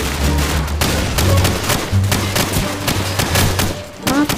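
Bursts of automatic rifle fire in Call of Duty 4: Modern Warfare during a village bombing mission, loud, close shots in repeated rattling volleys with booming impacts mixed in.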